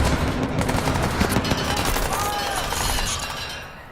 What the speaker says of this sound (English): Someone's got a 50 cal as well.